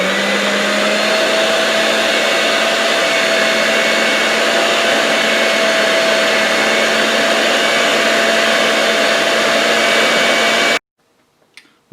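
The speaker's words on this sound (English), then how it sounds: "Now we are going to mix." An electric hand mixer runs continuously while beating pumpkin cheesecake dip, a loud, steady motor whine with a constant hum that cuts off abruptly near the end, followed by brief faint clatter.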